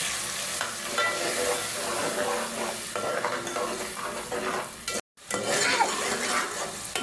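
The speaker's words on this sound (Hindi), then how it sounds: "यहाँ हमारा मसाला भून रहा है" Onion and tomato masala paste frying while it is stirred, a close, busy sizzle broken by scraping and spoon strokes, with one brief gap partway through.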